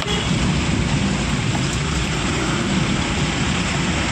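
Dense, steady roar of heavy rain pouring down on a flooded road in Silchar, India, loud and unbroken throughout with no other sounds standing out.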